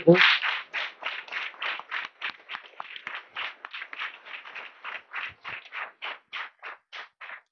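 A church congregation marking a priest's ordination anniversary claps in a steady rhythmic beat, around two dozen even claps at a moderate distance, with no speech over them.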